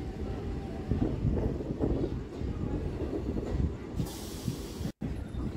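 A Sealdah–Baruipara local train runs along the Howrah chord line, a steady rolling rumble of wheels and carriage rattle heard from inside, with wind buffeting and a brief cut near the end.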